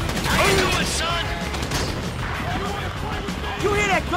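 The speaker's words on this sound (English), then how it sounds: "You hear that gunfire?" Gunfire in the Grand Theft Auto V Paleto Score heist, bursts of shots with echoing booms and metallic clatter at close range, mixed with game effects and voices talking over the action.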